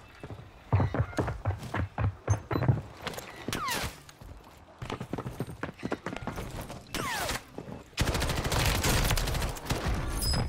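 Gunfire in the Warzone 3 battle royale video game, with scattered single shots and short bursts at varying distances, ending in a sustained volley of rapid fire.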